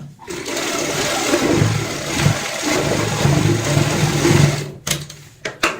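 A sewing machine runs steadily stitching fabric for a heart-shaped cushion cover, a continuous close mechanical whir that stops near the end, followed by a few brief clicks and handling noises.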